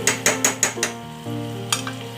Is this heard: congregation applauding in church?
no